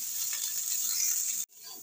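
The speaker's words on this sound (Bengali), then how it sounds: "ডাটাটা দিয়ে দিচ্ছি ঘাটকোলের। সমস্ত কিছু ভালো করে আমি ভেজে নেব।" Ghatkol (taro) stalks sizzle steadily in a hot pan, a bright continuous frying hiss that breaks off abruptly near the end and then resumes more softly.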